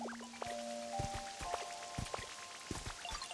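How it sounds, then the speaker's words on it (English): Rain in the Nintendo Switch 2 game Pokémon Pokopia patters softly as scattered drips and droplet plinks over a faint hiss, irregular and quiet, with some tonal game chimes and no speech. "Ah, the rain feels so good."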